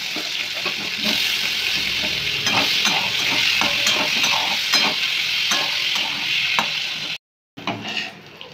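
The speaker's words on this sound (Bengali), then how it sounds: "তেলেই আবার আলুগুলো ভেজে নিলাম" Potatoes fry in hot oil, giving a loud continuous sizzle close by, punctuated by repeated clicks of stirring against the pan, with a short silent break near the end.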